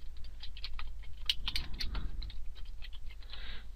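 Keys tapped on a computer keyboard while entering text in Microsoft Word, a short quiet run of light irregular clicks over a low steady hum.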